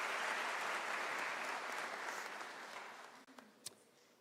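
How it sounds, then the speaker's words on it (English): Applause from the crowd at a university autumn graduation ceremony, a broad wash of clapping that fades gradually, with a few isolated claps and a brief voice near the end. "Let's give Prof a round of applause,"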